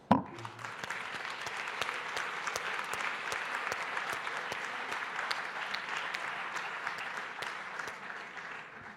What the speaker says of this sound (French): Et je vais moi-même lancer l'applaudissement.